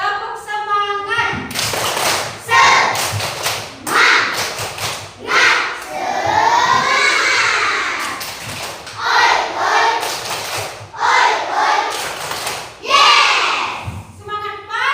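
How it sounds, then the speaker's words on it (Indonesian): Primary schoolchildren do a rhythmic spirit clap in a classroom, with loud bursts of patterned clapping alternating with children chanting together in unison. "Yuk, tepuk semangat."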